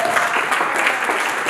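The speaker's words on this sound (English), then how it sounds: "Give them another round of applause." Loud, continuous clapping from a dinner audience at a community award event, a close and even wall of applause.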